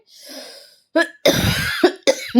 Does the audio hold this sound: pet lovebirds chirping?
no